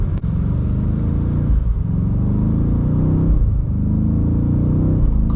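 A 2025 BMW M8 Competition's V8 roars up through the revs in a loud, close run, then eases off as the next gear catches and builds again, a deep throaty rumble filling every moment.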